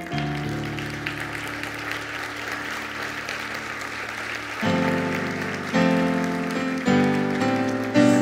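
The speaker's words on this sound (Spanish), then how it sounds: "Si quiere aplaudir al Señor, puede hacerlo." Church congregation clapping during a Spanish-language service, a steady patter of applause under sustained organ or keyboard chords, with the music growing louder and shifting chords in the second half.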